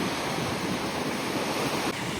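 Sea waves roll onto the Odessa beach on a mild January day, a loud continuous broadband rush of surf close to the microphone with wind noise and no pauses.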